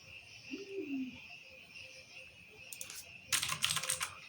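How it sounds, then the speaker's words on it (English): Typing on a computer keyboard: after a few seconds of quiet room hum, a short, dense burst of clicking keystrokes comes up close near the end. "Keyboard works now."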